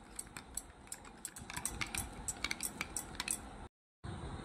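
A spoon stirs a mixture of yeast, sugar and yogurt in a small bowl, giving quick light clinks and scrapes against the dish in an uneven rhythm, close but soft, with a brief silent gap near the end.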